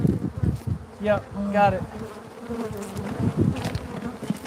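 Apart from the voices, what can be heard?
killer bees buzzing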